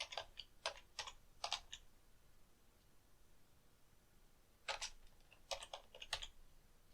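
Quiet typing on a computer keyboard: two quick bursts of keystrokes separated by a pause of about three seconds, close and crisp with nothing else heard.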